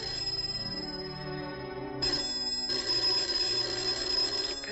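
An electronic bell rings late at night, a bright repeated chiming tone that pauses briefly and then resumes, moderately loud and alone with no voices.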